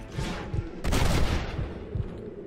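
Gunfire in Red Dead Redemption, shots fired through a wall: several sharp reports, then a heavier sustained burst in the middle, loud and close with a little rumble trailing after.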